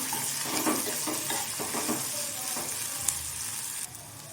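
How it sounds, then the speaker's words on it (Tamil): Green chilies and tamarind sautéing in a pan for Tamil-style mint chutney, a continuous close sizzle with scraping stirs and a light utensil tap near the end. "புளி சேர்த்ததுக்கப்புறம் ஒரு ரெண்டு நிமிஷம் நல்லா வதங்கட்டும்"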